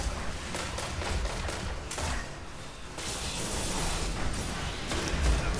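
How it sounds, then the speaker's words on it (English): Gunfire in Destiny competitive multiplayer, a dense, continuous wash of overlapping shots and impacts, with several sharper cracks standing out within a loud, busy mix. "I got hit by a sniper rifle"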